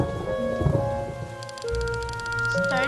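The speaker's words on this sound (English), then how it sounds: "Starting to rain." Steady rain falls in a video game's camping scene, a continuous hiss with low thunder-like rumbles, heard alone over a game soundtrack of sustained tones and a brief rising chime.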